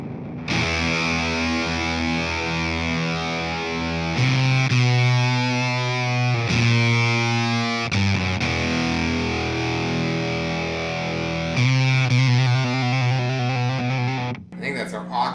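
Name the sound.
Fender guitar pedal broken sound with built-in noise gate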